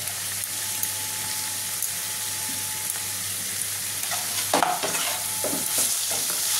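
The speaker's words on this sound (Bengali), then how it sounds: "এবার হালকা আমি ভেজে নেবো আবার" Grated carrot, capsicum and green chilli being stir-fried for chicken rolls make a soft, steady sizzle, with scraping and stirring strokes that grow busier near the end, close by and without speech.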